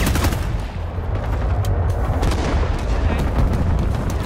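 Dense, continuous gunfire from the video game Rising Storm 2: Vietnam, with rapid overlapping shots and booms filling the clip at close range and loud volume throughout.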